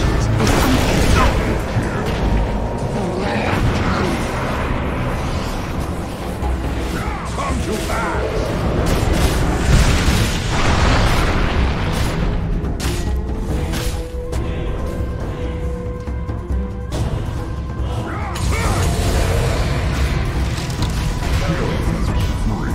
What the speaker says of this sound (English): Dire's ancient is under attack.